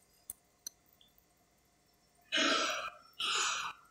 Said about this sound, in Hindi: वो बुरी तरह से खांस रहा था, सीने पर हाथ रख के